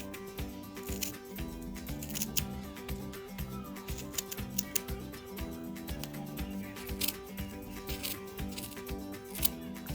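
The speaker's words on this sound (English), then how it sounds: "I'm going to go through with my scissors and I'm going to cut" Scissors snip through wound yarn on a pom pom maker, a series of close, crisp cuts in an otherwise quiet room.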